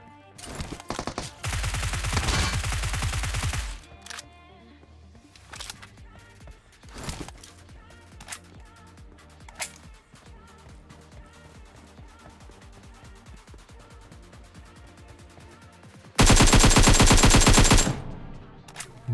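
Automatic weapon fire in the mobile battle-royale shooter PUBG Mobile: two long, loud bursts of rapid gunfire with scattered single shots and game sounds between them.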